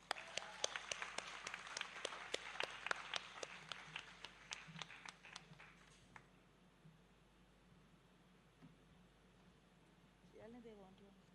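An audience claps for a young dancer at a Bharatnatyam arangetram stage performance, a lively burst of many hands that fades out after about six seconds, leaving quiet room tone and a brief voice near the end.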